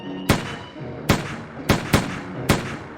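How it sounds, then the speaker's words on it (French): Shots ring out from French rifles in sharp, loud single cracks, five irregularly spaced reports with short echoing tails and no voices. "Les villageois résistent bien, mais les fusils des Français tirent loin."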